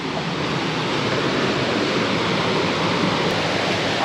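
Steady, broadband rush of water pouring at Irish Brook Falls, a constant loud roar with no pauses or voices.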